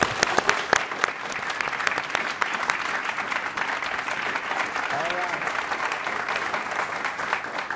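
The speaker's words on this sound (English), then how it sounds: "Let's give them both a round of applause" Studio audience applause opening a 2012 US Senate candidates' debate, a steady dense clapping wash sustained for several seconds, loud and close with no talk over it.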